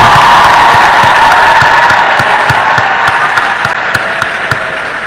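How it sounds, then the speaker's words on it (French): Sustained crowd applause for graduates at a graduation ceremony, dense steady clapping with scattered cheers and whoops, loud and close, gradually easing over five seconds with no talk on top. "Prêtez même pour applaudir."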